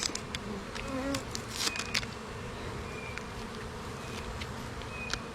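Bees buzzing all around at close range, a constant drone with individual insects whining louder as they pass near.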